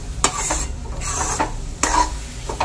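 Thick lentil puran filling is stirred in a kadhai, giving scraping, sticky stirring strokes in an irregular rhythm, with a faint sizzle underneath and an occasional clink of the spoon against the pan.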